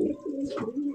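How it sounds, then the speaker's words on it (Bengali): A white grizzle racer pigeon coos up close, a soft, throaty, continuous rumble of calls that fills the short moment without any voices. "হোয়াইট গ্রিজেল রেসার কবুতর, ডাক দেখেন।"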